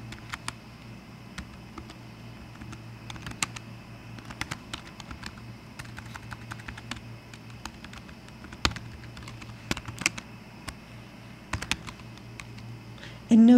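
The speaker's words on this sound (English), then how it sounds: "And notice as I start typing" Steady typing on a computer keyboard, close and clear, a rapid irregular patter of key clicks running throughout with occasional louder taps and no talking.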